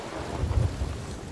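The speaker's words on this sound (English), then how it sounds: "We're in the middle of a storm." A thunderstorm at sea in the pirate video game Sea of Thieves: a low rumble of thunder over steady rain, brief and fairly loud, with no talking.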